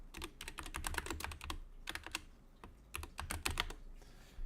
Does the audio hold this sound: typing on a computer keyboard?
yes